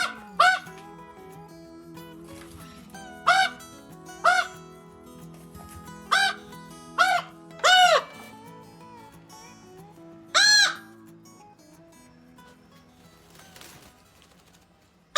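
A rescued raven with a severe wing injury calls out in a series of short, hoarse, nasal croaks, spaced irregularly, with a longer drawn-out call near the end, close and clear against a quiet room.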